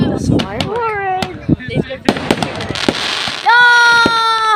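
Fireworks pop and crackle in a string of sharp bursts, some with rising whistles, while excited voices talk and squeal between the blasts.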